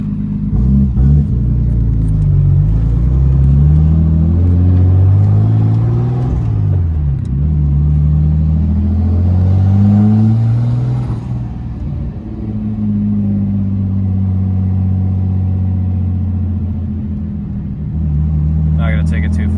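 A drift car's RB25 engine idles at about 1600 rpm with a deep rumble, then revs up and down as the car drives off, while someone talks over it.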